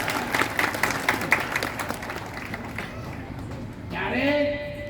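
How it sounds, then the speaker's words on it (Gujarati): Audience applause at a village satsang gathering in Nugar, Mehsana, with a dense patter of clapping over the first few seconds that thins toward the end, alongside a voice. "એમને તાળીથી વધાવો"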